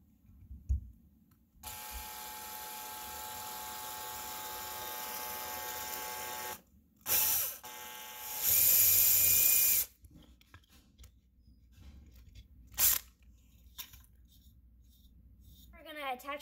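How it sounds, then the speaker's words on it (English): A countersink bit whirs into wood to seat nails flush on a simple wooden catapult, a few short close bursts of drilling separated by pauses and handling clicks. "Now we're going to use the countersink so these nails can sit down flush."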